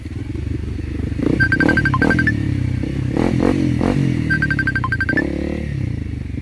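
An enduro motorcycle engine rumbles steadily on a rainy-season mountain trail as the rider shifts down to a low gear, with two short runs of high, whining revs and some clattering.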